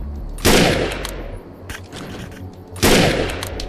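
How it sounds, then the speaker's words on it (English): Two loud, close bursts of gunfire in the video game Defiance, each a sharp boom trailing into a decaying tail, separated by a stretch of quieter game ambience. "Man, I'm having too much fun just fucking shooting things"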